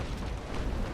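Cannon fire from the naval warfare game Naval Action, heard as a steady, loud, rumbling roar that fills the whole second with no break or fade.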